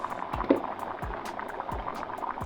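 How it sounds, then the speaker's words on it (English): A pot of rice and water boils steadily over a fire, with soft gurgling and popping and occasional low thumps recurring at intervals. "When the rice starts boiling,"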